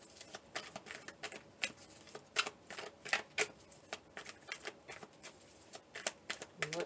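Tarot cards being shuffled and pulled for a reading, a close, soft, rapid flutter of riffles and taps with uneven bursts, quiet throughout.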